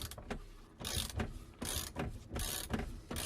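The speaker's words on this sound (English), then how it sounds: "now I can go get the ratchet" A hand ratchet clicks as it loosens the steering wheel nut on a BMW E30, a close series of quick ratcheting strokes with a steady rhythm.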